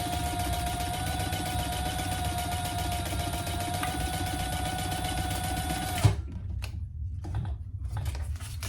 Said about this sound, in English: I think I'm just going to chain stitch.